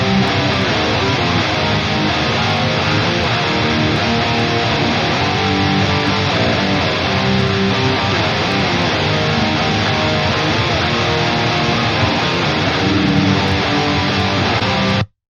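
Dense, loud metal rhythm guitar on a seven-string through the Jeff Loomis Toneforge plugin in stereo, a thick distorted wall of chugging chords sustained throughout before stopping abruptly.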